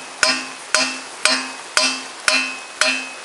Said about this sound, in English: now I use this metallic pipe, and I hammer that couple of times